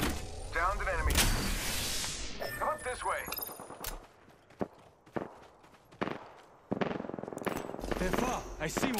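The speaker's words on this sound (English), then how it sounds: "I see one! Getting shot at! Getting shot at!" Apex Legends gunfights: loud bursts of automatic fire open the stretch, then sporadic sharp shots and a later volley ring out between quieter gaps with footsteps, heard close and punchy.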